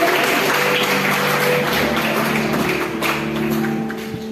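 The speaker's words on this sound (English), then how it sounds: "Give them a round of applause." A graduation audience at a secondary school applauds for the graduates, a dense, steady wash of clapping from a crowd with a faint hum underneath that eases slightly toward the end.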